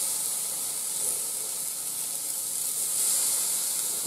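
Bacon sizzles and hisses steadily on a preheated new cast iron Lodge portable grill, a continuous close, bright sear with no talking.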